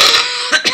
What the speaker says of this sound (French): excusez-moi, j'ai encore de la toux.